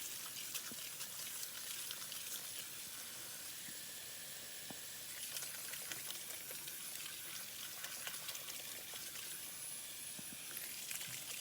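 Water poured into a large bowl of salted cabbage, a soft steady trickle and hiss with faint splashing and stirring textures continuing throughout, fairly quiet and without speech.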